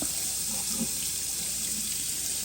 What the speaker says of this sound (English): First, turn on your water and wait till it gets hot.